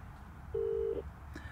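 A single steady electronic tone sounds briefly, like one pulse of a phone ringback signal, from a GSM plug-adapter listening device, over a quiet low hum.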